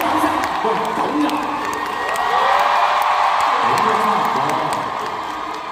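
A concert audience at a show cheers and whoops loudly as one large crowd, a sustained roar that swells midway and fades slightly at the end.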